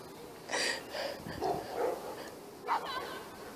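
A dog gives a string of short yipping barks and whimpers, close and fairly loud, in a few separate bursts with brief pauses between them, with faint voices in the background.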